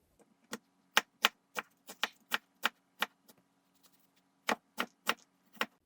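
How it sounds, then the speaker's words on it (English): A knife chops green onion on a cutting board in sharp, evenly spaced taps, about a dozen crisp close knocks with a short pause partway through. "Chop the onion."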